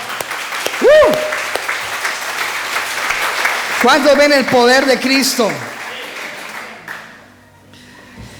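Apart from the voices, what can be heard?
church congregation applause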